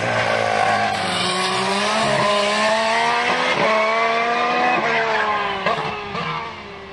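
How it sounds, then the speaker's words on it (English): A primary-coloured Sauber Formula 1 car on a winter testing lap at Jerez, its high engine note rising and falling through gear changes as it passes close by, loud and steady throughout, with no talking. "only Marcus Ericsson carried on for a second lap in the primary coloured Sauber"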